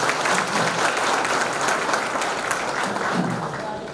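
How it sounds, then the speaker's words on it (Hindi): An audience at a Brahma Kumaris Security Wing gathering in Mumbai applauds, a steady dense wash of clapping from many hands that holds loud and even for about four seconds before easing slightly. "जोर से ताली बजाइए अपने लिए"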